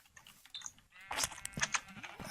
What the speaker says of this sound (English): Over here we have sheep.